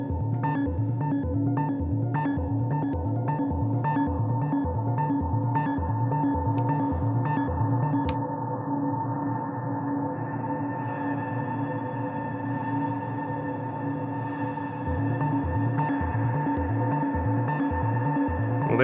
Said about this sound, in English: that is a lot of reverb